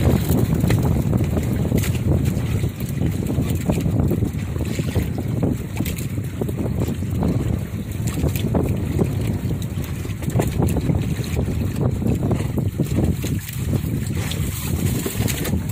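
Strong wind buffets a crab fishing boat out at sea in rough weather, a constant loud roar of gusts and microphone wind noise with water churning beneath and no voices.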